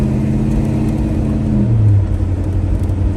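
A 1969 Chevrolet Chevelle engine rumbles steadily while driving, a loud, close, low drone with a slight rise in pitch partway through, no voices over it.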